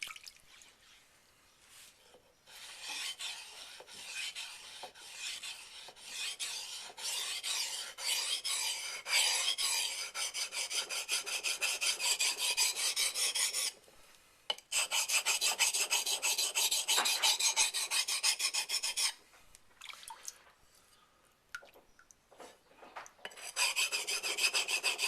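Knife blade rasping back and forth across a wet waterstone during convex sharpening, steady rhythmic scraping strokes close up, pausing briefly twice before resuming.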